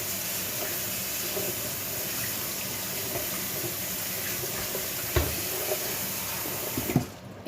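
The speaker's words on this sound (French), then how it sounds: "On va la passer à l'eau froide." Cold tap water runs steadily over sauerkraut in a colander for homemade choucroute garnie, a continuous close hiss with a couple of small metallic clunks near the end.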